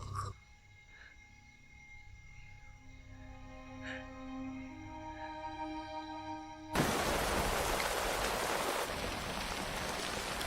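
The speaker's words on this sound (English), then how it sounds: "Fucking rain never ends." Steady rain begins suddenly partway through, a dense hiss that replaces an earlier low tonal hum and keeps going to the end.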